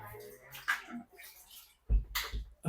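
Water splashes and sloshes in short bursts, with pauses between pours and a faint voice nearby.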